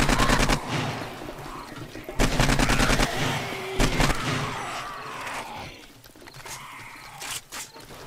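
AK rifle gunfire in the 7 Days to Die video game on insane-difficulty horde night, loud rapid automatic bursts fired in several strings separated by brief pauses, with scattered impacts and engine-like noise in between.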